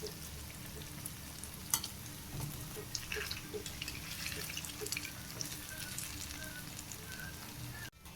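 Urad dal vada frying in hot oil, a steady, close sizzle with crackling pops running continuously, alone without talk.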